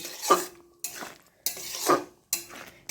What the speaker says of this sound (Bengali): মশলাটা কিন্তু ফুটতে শুরু করে দিয়েছি তো এর মধ্যে আমি অ্যাড করে দিচ্ছি এই পটলগুলোকে